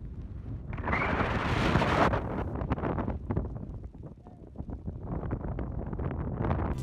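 Strong wind gusting across wet desert sand dunes at Shapotou in Zhongwei, Ningxia, during rain, a loud steady buffeting roar that peaks early and then continues with fluctuating rumble and faint crackle.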